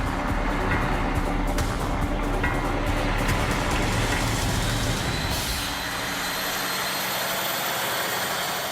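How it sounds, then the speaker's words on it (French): Heavy machinery and trucks at a hydraulic fracturing drilling site with an eight-storey drilling tower, giving a steady low engine rumble and idling drone with some mechanical hiss, loud and continuous, easing slightly toward the end. "des machines et des camions qui vont et viennent et font du bruit."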